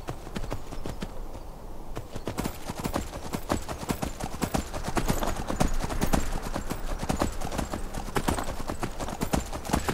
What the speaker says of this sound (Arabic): ما في شيء تاني واحد يعمله الا راكب على الحصان وطالع